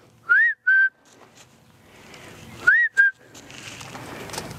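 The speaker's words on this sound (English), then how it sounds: "I'm going to whistle and she's going to come." A person whistles a recall cue to a horse during liberty training: two rising-then-steady whistles, a pause, then another pair, clear and close with quiet outdoor background between.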